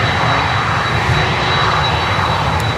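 Aircraft departing Miami airport, a loud steady engine roar with a thin high whine on top, close and continuous with no voices.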